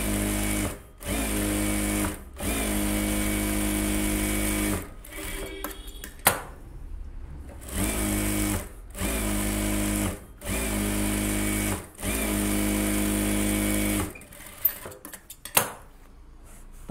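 A sewing machine stitches a silk cotton saree blouse in several long, steady whirring runs, each stopping briefly before starting again, loud and close, with a few small clicks and handling knocks between runs near the end.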